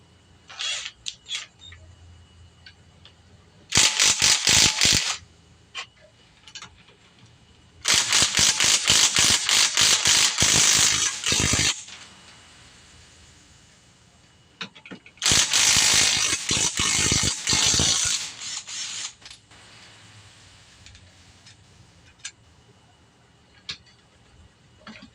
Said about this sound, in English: it works best if you have a impact wrench or a impact driver